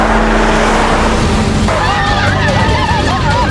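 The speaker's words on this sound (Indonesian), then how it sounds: "Dia ngebut di jalan kota Seoul membuat mereka ketakutan." A car speeds loudly through city streets in Seoul, a steady near engine roar with a rising whine and faint crowd-like noise underneath.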